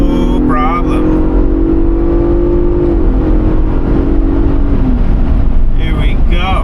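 A Ford Bronco Raptor on 37-inch tires accelerates toward highway speed, its engine tone rising steadily with a loud road and wind roar, then easing off; a voice speaks briefly at the start and end.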